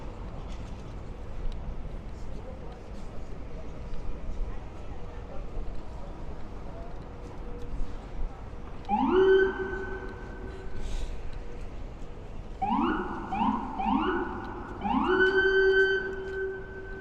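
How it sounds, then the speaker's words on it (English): First responder sirens wail in several rising bursts on a New York City street, moderately distant, echoing against a steady background hum. "You get some really good acoustics down here with first responder sirens."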